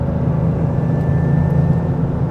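GR Yaris with a titanium exhaust dropping from sixth to fifth gear, a steady loud low engine drone and exhaust rumble held throughout without a break.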